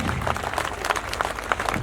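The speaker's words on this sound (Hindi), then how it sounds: "उनके उत्साह के लिए आपकी तालियों की गड़गड़ाहट की आवश्यकता है" An audience at a Buddhist community gathering claps steadily, a dense, loud, continuous patter of many hands filling the whole moment.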